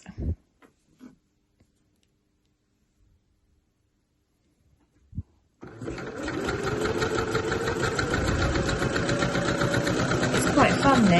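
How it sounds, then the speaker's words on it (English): A sewing machine runs steadily for about six seconds, back stitching elastic onto a T-shirt sleeve, loud and close with a continuous mechanical whir, after a mostly quiet stretch with a few small handling knocks. "I'm just going to do a few little back stitches to lock that in"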